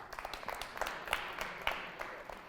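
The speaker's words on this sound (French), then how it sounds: "sous vos applaudissements" Scattered crowd applause at a 2025 high school trophy ceremony in Guéra, Chad, as a guest is introduced on stage: faint, uneven claps with a few sharper hits, no voices.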